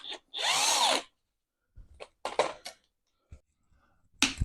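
A power tool whirs in one short burst, spinning up and winding down while taking a plate off a car gearbox during a QED C20XE engine swap, followed by scattered metallic clinks and knocks nearby.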